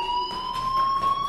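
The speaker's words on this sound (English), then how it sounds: "do you hear that fire alarm? That means you should be outside." Fire alarm ringing in the video game Life is Strange, a steady electronic multi-tone sounding continuously and loudly throughout, with no talking.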